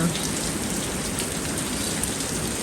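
Sudden heavy rain pours down on a farm, a dense, steady hiss of drops hitting surfaces that stays loud and unbroken throughout, with no voices.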